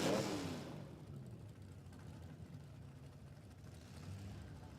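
A Plymouth drag racing car at a dragway roars loudly at first, then fades quickly into a faint, distant engine drone that lingers with a slight swell near the end. No one speaks.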